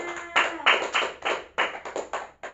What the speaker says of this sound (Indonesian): tepuk tangan dulu ya semuanya